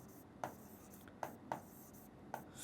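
Chalk taps and scrapes on a classroom board as a circle geometry solution is written, four sharp separate strokes spaced apart over quiet room tone.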